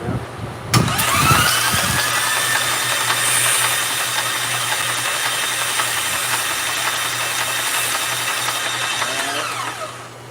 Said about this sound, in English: Go ahead and crank it over.